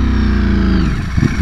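A 2020 Ducati Streetfighter V4 with aftermarket exhaust and stock mapping runs loud and close, its deep harmonic engine note holding steady, then sagging and stumbling unevenly as it struggles.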